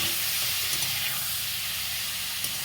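Karamcha fruit fries in mustard oil in a wok with dried red chillies and ground spices, giving a continuous close, bright sizzling hiss with no voices.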